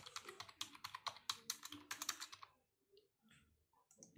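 Rapid keystrokes on a computer keyboard, a close, even run of crisp clicks for about two and a half seconds, followed by a few sparse, fainter taps after a pause.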